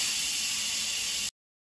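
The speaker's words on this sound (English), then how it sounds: "Now the Instant Pot is done cooking, so let's quick release the steam" A loud, steady hiss of steam rushing out of an Instant Pot's release valve during quick release after cooking, cut off abruptly after about a second.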